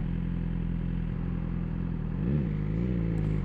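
A 2021 BMW S1000R motorcycle engine idling then pulling away as the clutch is let out, a steady loud close rumble that rises briefly in pitch near the end.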